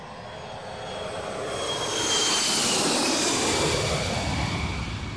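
An airplane engine gives a steady, close jet roar that swells slightly and holds, with no voices over it.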